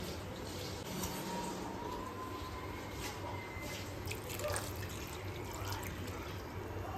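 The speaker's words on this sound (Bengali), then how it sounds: "এবার দিয়ে দেব জল আর সামান্য একটু দুধ" Water and a little milk are poured into a cooking pot of braised meat and potatoes, giving soft, faint splashing and dripping over a low, steady background hum.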